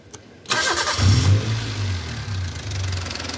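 A car engine cranks and catches, surging to a loud rev before settling into a steady, close idle rumble.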